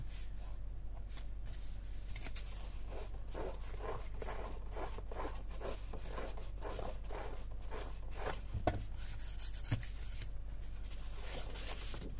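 Magic eraser scrubbing off leftover glue pieces: quick, repeated rubbing strokes in an even rhythm, close up and steady over a constant low hum, with no talking.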